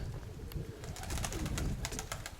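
A homing pigeon coos close by while driving its hen toward the nest, soft low repeated calls mixed with sharper flutters and clicks in an outdoor loft.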